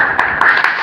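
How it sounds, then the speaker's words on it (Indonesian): Small gathering at a regional arts outreach meeting clapping for artists, a few sharp, loud, close claps landing in an uneven rhythm over a steady background hum. "tepuk tangan kagem seniman sedaya"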